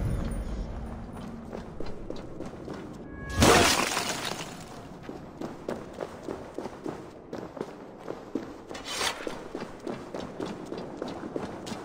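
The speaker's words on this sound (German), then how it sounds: "Das Eis ist dünn. Kannst du es zerbrechen?" Thin ice in a cave in Assassin's Creed Valhalla breaks with one loud, bright crash midway, set against a steady run of crunching footstep-like clicks before and after.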